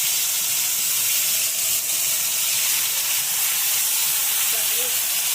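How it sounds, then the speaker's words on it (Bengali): Chicken pieces dropped one by one into hot oil in a kadai, a steady loud hissing sizzle filling the clip with a brief voice near the end. "আমরা তেল গরম হয়ে গেলে আমরা একটা একটা করে এইভাবে চিকেনগুলো কড়াইয়ের মধ্যে ছেড়ে দেবো।"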